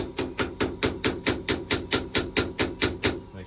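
An 8mm socket is tapped onto the anode bolt of a Suzuki outboard motor with about a dozen quick, evenly spaced metallic knocks, close and clear with no voices.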